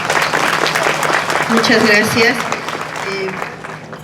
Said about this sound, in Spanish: Vamos a recibirlo también con fuertes aplausos.